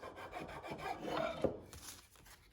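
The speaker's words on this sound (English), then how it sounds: "it gives you an easy way to sand these interior edges" Sandpaper strip rubbed by hand along interior wood edges of a tusk tenon joint, a steady close rasping scrape with a sharper scuff near the middle and no speech.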